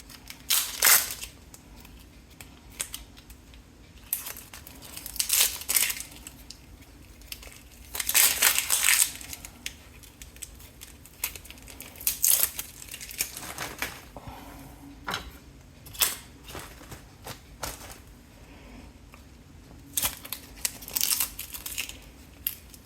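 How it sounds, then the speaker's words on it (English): Dry onion skin crackles and crinkles as it is peeled off by hand, in scattered short bursts between quiet stretches, close and fairly faint. "You want to clean your onion off"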